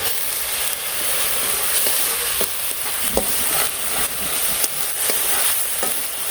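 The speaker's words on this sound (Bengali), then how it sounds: "মশলাটা ভালো করে কষিয়ে নিই।" Spice masala with salt, chili and turmeric frying in a pan in a village kitchen, a loud continuous sizzle with occasional scrapes of stirring.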